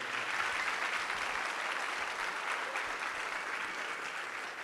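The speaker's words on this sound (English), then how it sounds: "Let's give him one more round of applause, ladies and gentlemen" An audience at a GOLEKANE ceremony for a group of boys keeps up a sustained, even round of applause, soft and somewhat distant, with no break in the clapping.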